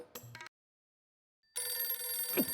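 Telephone ringing in a Hindi TV sitcom scene, a short burst of ring, then a full second of dead silence before the ring resumes and continues steadily to the end.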